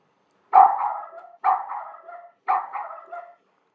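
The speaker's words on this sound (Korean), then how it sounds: "장애물이 인식이 되면 강아지가 가던 길을 멈추고 짖는 것을 확인할 수 있었습니다" An AI robot guide dog stops at a detected obstacle and barks three evenly spaced times, each bark clear and synthetic-sounding against silence.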